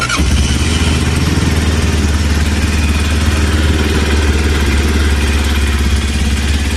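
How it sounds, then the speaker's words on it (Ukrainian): A cold Zonsen Cyclone motorcycle engine idles steadily at a fast, high-revving pace, a loud continuous low rumble with a sharp start at the very beginning. "Мотоцикл холодний, тому він трошки на високих обертах працює."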